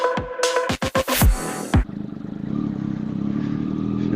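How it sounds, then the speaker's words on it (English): A motorcycle engine idles roughly with a steady, uneven pulsing throb that continues near and alone, after a burst of clattering and handling knocks in the first couple of seconds. "the idle is actually sounding worse and worse on this bike every day"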